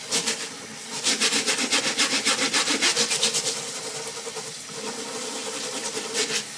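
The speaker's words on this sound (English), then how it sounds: "Now I always scrub the top edge." Stiff bristle brush scrubbing the top edge of an aquarium algae scrubber screen, rapid rhythmic rasping back-and-forth strokes, loud and close, with a brief slower pause in the middle.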